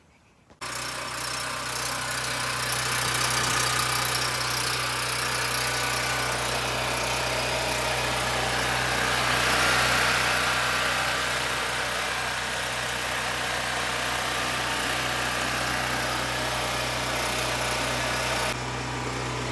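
A gasoline portable generator, used for auto detailing, starts abruptly and then runs alone at a constant, steady hum with a low droning tone throughout.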